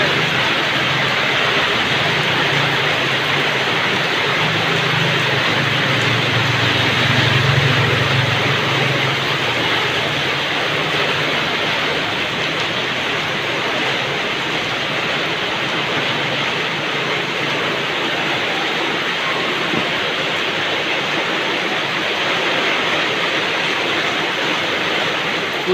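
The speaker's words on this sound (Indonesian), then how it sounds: "Hujan, iya hujan." Heavy rain pours down over Tangerang amid strong wind and flooding, a dense, steady roar of water filling the whole stretch without a break, loud and close, with a low rumbling swell near the start.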